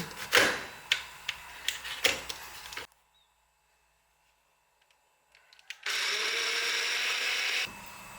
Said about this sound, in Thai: เราก็จะเอาไปใส่โถปั่นเลยจ้ะเพื่อความรวดเร็วของเรา